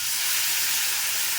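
Hot water hits a hot pan of fried chilli powder and spices for an egg roast, setting off a loud, continuous steamy hiss with no break.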